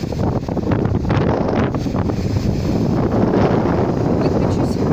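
Strong beach wind buffets the microphone in a continuous loud rumbling roar for the whole stretch, with gusts swelling and easing.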